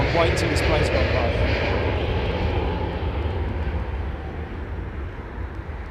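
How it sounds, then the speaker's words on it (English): A low, steady jet engine roar from an airplane passing overhead near London Heathrow Airport fills the whole stretch, loud and close, slowly fading toward the end. "wait until this plane's gone by"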